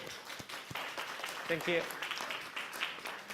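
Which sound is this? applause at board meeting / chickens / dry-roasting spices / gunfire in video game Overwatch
applause at board meeting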